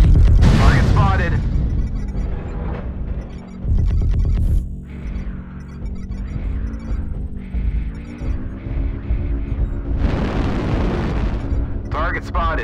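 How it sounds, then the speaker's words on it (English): Artillery strike explosions in a video game, heavy booming blasts arriving in several bursts with rumbling tails, under an intermittent radio-style voice. "Artillery strike online."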